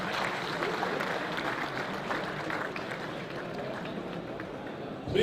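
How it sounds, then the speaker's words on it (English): Crowd applause at a large live fundraising event in Yobe State, a steady, dense wash of clapping sustained throughout without pause, fairly loud and close, with faint voices mixed underneath. "Please give Alhaji Dairu Mangal another very big round of applause."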